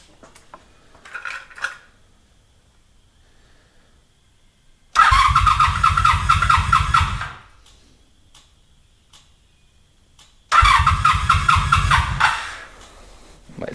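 A 1983 Honda Magna V4 motorcycle cranks and fires twice. Each time it runs loud and rough for about two seconds before dying, with quiet pauses in between and faint clicking before the first start.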